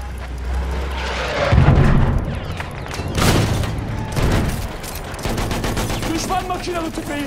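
Machine gun fire in Battlefield 1 Conquest multiplayer, with rapid bursts mixed with booming impacts and battlefield rumble, and voices shouting in Turkish during the fighting.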